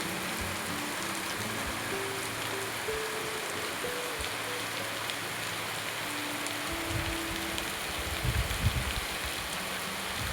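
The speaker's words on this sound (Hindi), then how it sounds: "ज़बरदस्त बरसात होने लगी है हमारे यहाँ को।" Heavy rain pouring down outdoors, a steady dense hiss of water on surfaces lasting throughout, close and loud, with a few heavier splashes and low rumbles toward the end.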